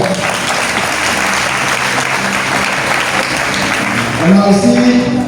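A charismatic renewal congregation applauds to acclaim the Lord, a loud, dense, continuous round of clapping from a large crowd, with a voice rising over it near the end.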